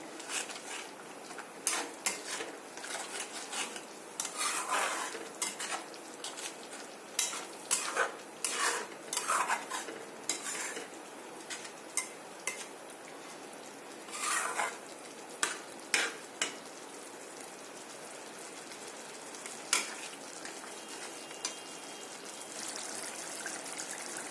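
Spice masala frying in oil in a pan for a Tengra fish curry with black sesame, a steady close sizzle broken by repeated metal spatula scrapes and clinks against the pan, with no talking.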